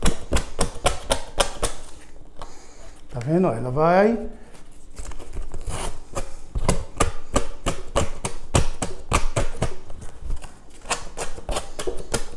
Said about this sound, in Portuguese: lixa vai servir para que a gente tire toda essa borda e ela fique rentezinha